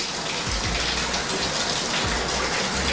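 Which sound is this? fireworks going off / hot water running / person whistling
hot water running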